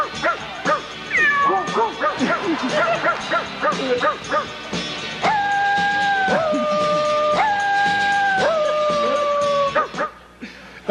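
A voice imitating a cat with drawn-out meows on a radio game show, broken into several sustained wavering cries, mixed with dog-like yips and barks and heard close and loud.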